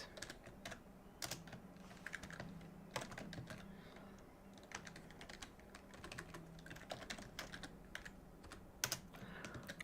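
Computer keyboard typing during a live game-development session, an uneven run of sharp key clicks with bursts and pauses over a low steady room hum, close and moderately loud, no talking.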